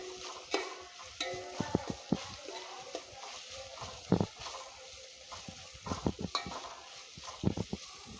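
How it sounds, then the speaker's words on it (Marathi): Green chilli and ginger-garlic paste frying in oil for chicken curry, stirred with a spoon scraping the pot in irregular knocks over a soft steady sizzle, close and moderately loud. "हिरवी मिरची आलं लसणाची पेस्ट टाकूया हलवून घ्यायचं व्यवस्थित हलवत राहायचं सारखं"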